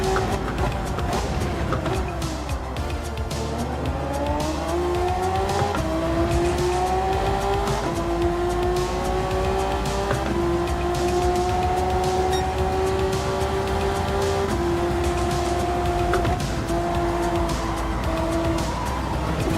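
A GT race car in an all-Japan GT racing video game roars loudly and continuously, its engine pitch climbing and shifting through gears while tyres squeal underneath, with no talking.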